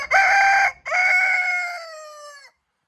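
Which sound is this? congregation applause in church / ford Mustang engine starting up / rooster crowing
rooster crowing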